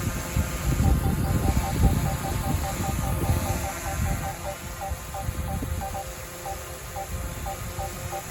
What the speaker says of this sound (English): here's the sound it makes